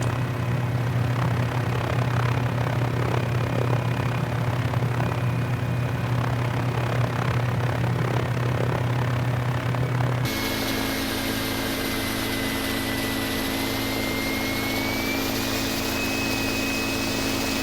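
A Mini 500 helicopter flying straight and level gives a steady droning engine and rotor hum, loud and continuous from inside the cabin, with a sharp shift in tone partway through and no speech.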